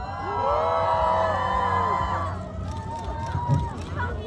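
A crowd at an outdoor busking show at the Gyeryong military culture expo cheers and screams loudly with high excited voices, then fades to scattered shouts and some clapping.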